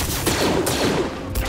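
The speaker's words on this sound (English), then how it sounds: "Excuse me, stop shooting at me" Blasters fire in a Star Wars Jedi: Fallen Order battle as a dense, loud, continuous volley of shots filling the whole moment.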